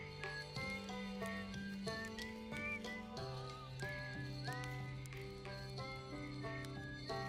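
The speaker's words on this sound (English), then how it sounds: "Oh, he's gonna whistle." A character whistles a tune in the video game Outer Wilds, a few clear gliding whistled notes over a layered musical backdrop of sustained tones and plucked instruments, fairly quiet overall.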